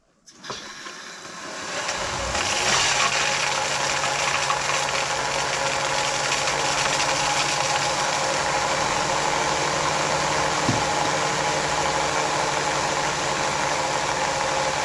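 A micro hydro turbine generator runs at 36 volts, giving a steady, loud broadband whir with a constant low hum, starting up over the first two seconds and then holding even with no talk.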